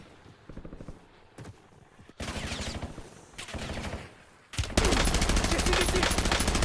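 Gunfire in the battle royale shooter Warzone, solo against a squad: bursts of automatic shots start quiet and intermittent, then turn into a loud, continuous volley of rapid fire at the end.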